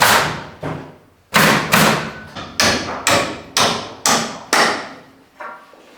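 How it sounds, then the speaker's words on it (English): A hammer strikes hard about eight times in a steady rhythm, each blow a sharp, loud, close thud with a short decay and no talking. "Love this hammer."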